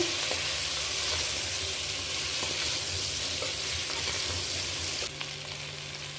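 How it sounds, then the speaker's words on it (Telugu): Sambar simmering in a pot with vegetable pieces softening, a steady low sizzle and bubbling with faint stirring scrapes throughout, close and alone. "మధ్యలో కొంచెం కలుపుతూ ఉండండి"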